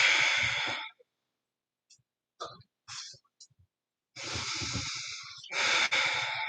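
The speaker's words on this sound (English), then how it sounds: "5 more of these long, deep breaths." Slow, deep breaths during a home yoga practice. A long airy exhale fades into near silence, a few soft breathy catches follow, and then two more full, close breaths return.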